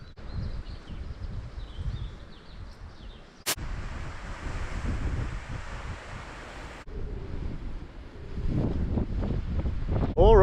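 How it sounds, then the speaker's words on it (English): Ocean surf and wind along the beach at Britannia Bay, St Helena Bay, South Africa: a broad, steady wash of waves under buffeting microphone wind gusts, swelling louder toward the end, with no speech. "here we are at Britannia Bay, part of a golden mile stretch of ocean here, stretch of beach."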